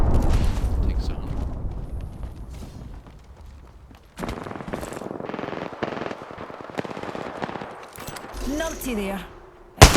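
Gunfire in the Apex Legends video game, including Kraber sniper shots, in bursts of sharp cracks and impacts under a player's continuous commentary, with a loud blast near the end.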